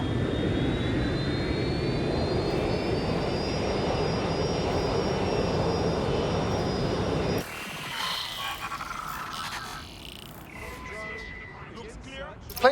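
Airplane flying in the video game Watch Dogs: Legion, a loud steady jet roar with a rising whine that drops abruptly to a quieter, thinner cabin-like hum partway through.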